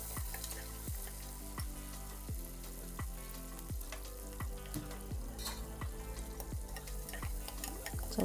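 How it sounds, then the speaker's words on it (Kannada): Chopped onions frying in a pan for a vegetable palav rice dish, a steady close sizzle broken by regular scraping strokes of a spatula about every half second, with no talking. "ಸ್ವಲ್ಪ ಚೆನ್ನಾಗಿ ಫ್ರೈ ಆಗಬೇಕು, ಟ್ರಾನ್ಸ್ಪರೆಂಟ್ ಆಗೋವರೆಗೂ ಚೆನ್ನಾಗಿ ಫ್ರೈ ಆಗಬೇಕು ಈರುಳ್ಳಿ."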